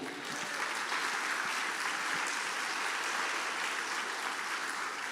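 Church congregation at a Sunday evening family service applauding, a dense steady wash of clapping from many hands that continues unbroken throughout.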